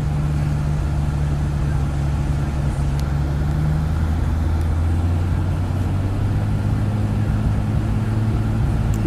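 A Golf GTI with a DSG gearbox at a drag strip launch, heard as a continuous loud engine roar that climbs in pitch through smooth gear changes, with a faint distant crowd ambience.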